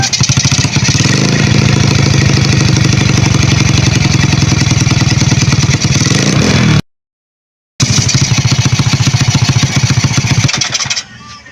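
A motorcycle engine runs loud and steady with a rapid, even putter, cuts out briefly, then starts again and keeps idling close by.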